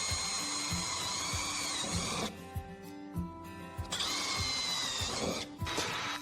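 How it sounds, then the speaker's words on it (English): A power drill with a 3 to 4 millimetre bit bores holes in the outer plate of a Volkswagen Caddy right rear door, two loud whining bursts of drilling split by a short pause. "start by drilling the outer plate at all the holes on the body side, right rear door."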